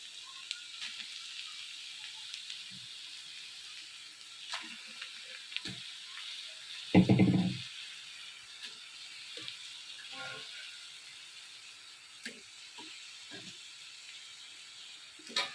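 Chicken pieces tipped into a pan of onions softened in hot oil for a gongura chicken curry, giving a steady soft sizzle with one loud crackling burst as the meat lands, plus scattered clinks and taps.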